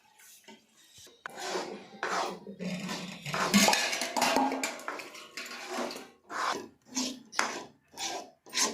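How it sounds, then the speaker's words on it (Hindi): Jaggery melting in ghee in a wok, stirred and broken up with a utensil: rhythmic rasping scrapes against the metal, close and clear, settling into a steady back-and-forth pattern toward the end. "इस तरह से आपको चला चला के गुड़ को फोड़ लेना है कढ़ाई में अच्छे से"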